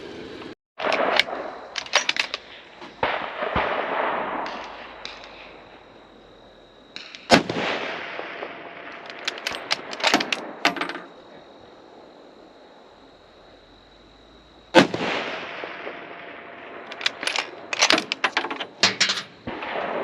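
Bergara B14 rifle in a KRG X-ray chassis fired at long range outdoors, with three loud, sharp shots spaced about seven seconds apart, each followed by rolling echo and clattering reverberation that fades before the next.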